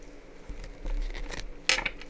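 Tarot cards are shuffled by hand, with soft papery rustles and taps that build to one louder riffle burst near the end. The sound is close and there is no talking.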